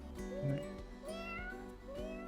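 A human voice imitates a cat, giving several soft, rising meows in a row, close but fairly quiet with faint background murmur.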